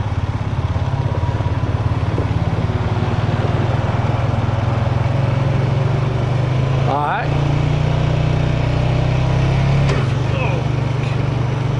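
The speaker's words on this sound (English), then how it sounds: "Now I'm going to downshift it, and I'm going to downshift it again. Whoop, went too far, went to neutral." An ATV engine runs loud and close with a steady low drone, shifting pitch as the rider downshifts and slips into neutral, with a sharp mechanical click partway through.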